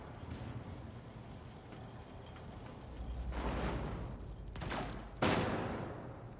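Gunfire and explosions in the video game Rogue Trader, with a low rumble building into several sharp bursts and a loud blast near the end, heard against a murky game ambience.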